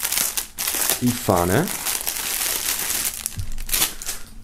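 Plastic film wrapping on a music box set being handled and crinkled, with close rustling and crackling bursts while someone speaks briefly.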